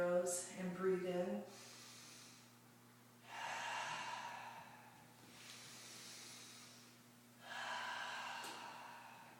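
A person breathing in deeply with thumbs pressed at the bridge of the nose, three slow, soft breath sounds spaced a few seconds apart after a brief opening sound, quiet and close.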